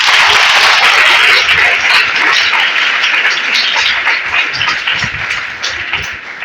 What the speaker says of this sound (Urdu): خدا کے نام کے لیے تالیاں ہو جائیں۔